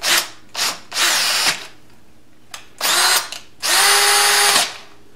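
A hand drill with a left-hand drill bit whirs into metal in several bursts of varying length, starting and stopping, close by, with the motor pitch shifting under load.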